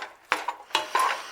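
A utensil scraping and clinking against a pot as meat and onions cook together, a few quick uneven knocks and scrapes close by.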